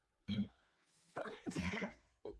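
A sneeze amid conversation: a short vocal burst early on, then a louder, breathy, noisy burst mid-clip, with brief voiced sounds around it, fairly close and quiet overall.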